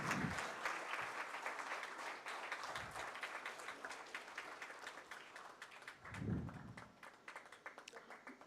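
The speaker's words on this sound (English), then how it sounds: "Students, give them a big round of applause." Students fill a hall with sustained applause at a postgraduate management induction ceremony, dense steady clapping throughout with a few louder thumps from nearby hands.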